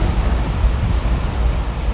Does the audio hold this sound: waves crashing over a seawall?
yes